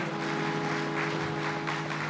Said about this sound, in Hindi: जरा जोरदार तालियां बजाएं